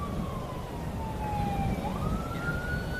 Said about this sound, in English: that's the 10-minute siren